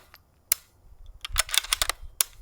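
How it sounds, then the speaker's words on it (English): A series of small, sharp mechanical clicks from a .22LR rifle being dry fired with the magazine out, some isolated and some in a quick cluster, crisp and close with no voices. "Dry firing it is the exact same as that thing going off."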